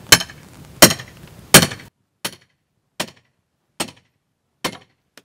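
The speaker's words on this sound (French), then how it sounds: "C'est principalement lié au bruit un peu violent que fait la massette." Sharp, loud strikes of a sledgehammer on a wooden pallet: three ringing blows, then four quicker, drier impacts at a steady pace.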